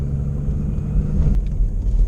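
A Jeep rumbles along while driving, a close, loud, low engine drone with road rumble that swells slightly partway through, no talking.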